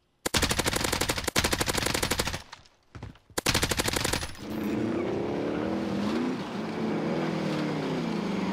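An M4A1 rifle in a video game fires loud, rapid automatic bursts with short gaps between them, then gives way to a steady vehicle-like drone.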